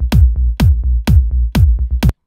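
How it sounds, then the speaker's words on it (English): Five punchy kick drum hits on a steady beat, each sustained by a deep sub bass that ducks under sidechain compression, giving a pumping swell between beats; loud, with no voices. "So every time the kick hits, there's a bit of compression."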